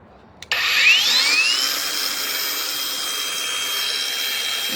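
Dnipro-M DGA-201BC cordless angle grinder switched on and spinning up to idle at 8500 rpm, a sharp rising whine settling into a steady loud high-pitched drone, close and alone.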